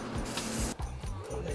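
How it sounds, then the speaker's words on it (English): Coconut cooking spray sprayed into a baking container for a bread loaf, a loud, close, steady hiss lasting under a second that cuts off abruptly, leaving a low hum. "I'm going to use my coconut cooking spray to spray this thing up"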